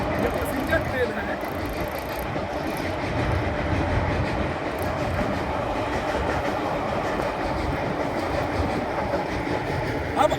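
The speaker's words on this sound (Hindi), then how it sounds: "आप एक ट्रेन का भी नजारा ले लीजिए, देख लीजिए थोड़ा सा, ये पैसेंजर ट्रेन है।" A passenger train rolls steadily past on an old bridge with continuous rumble and clickety-clack from the wagons, loud and close throughout.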